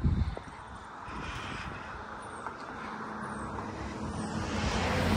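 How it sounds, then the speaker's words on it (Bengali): A car passes on a nearby road beside a quiet pond where ducks bathe, a broad steady rumble that swells slowly toward the end. "পাশে দিয়ে গাড়ি গেলেই শুধু শব্দ হয়"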